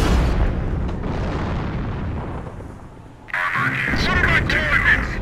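Artillery explosions from the Company of Heroes game rumble in a sustained, loud, booming wash for a few seconds, then a radio-style voice speaks over the fading battle noise.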